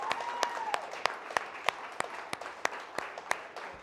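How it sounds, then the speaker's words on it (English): Applause for a guest on a talk show, a fairly sparse, faint round of separate claps with distinct sharp hits over a soft room background. "huge round of applause to Jenny"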